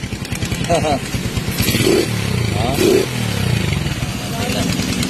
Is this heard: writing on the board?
no